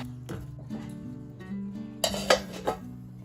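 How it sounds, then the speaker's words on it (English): Fork scraping and tapping against a pot or bowl while fluffing cooked couscous, with a few sharp metallic clinks near the end over a background of steady music. "Then I move to fluffing of the couscous. I separate the grains from each other. I use fork to do it."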